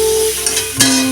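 Turmeric and salt being stirred in a hot pan while potatoes sizzle for a thin Bengali fish curry with aubergine, a steady frying hiss with a brief scrape of the spoon near the end.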